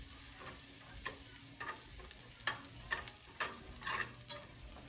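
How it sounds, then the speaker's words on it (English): Butter melts and sizzles in a pan with a soft, steady fry hiss, while a utensil scrapes and taps the pan bottom at irregular moments to break up stuck bits. "So we're going to let our butter start to melt. I'm breaking loose some of the little pieces in the pan"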